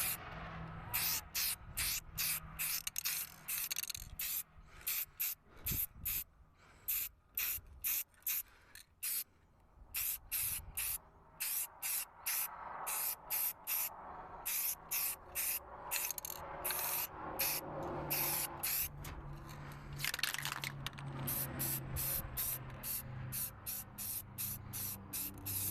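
A spray can coats a plastic truck grill in many short, crisp hissing bursts separated by brief pauses, close up, with no talking.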